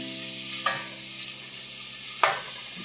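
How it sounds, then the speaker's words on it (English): Ground beef cooks in a pan with a steady soft sizzle, broken by two sharp scraping stirs of a utensil, close and moderately loud with no talk. "We're supposed to cook the beef, add everything in, and cook it for an hour."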